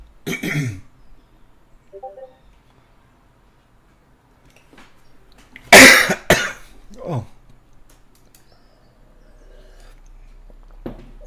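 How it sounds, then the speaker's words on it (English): A few sharp, harsh coughs come in bursts, one strong cluster midway and smaller ones at the start and end, separated by near silence. "Sorry about all the coughing."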